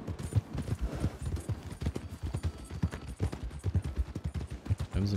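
Steady clip-clop of horse hooves at a brisk pace in Red Dead Redemption 2, close and continuous throughout, with rhythmic thuds and a faint whinny toward the end.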